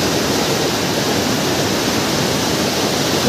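Floodwater rushes past near a bridge in a loud, steady, broadband roar with no break.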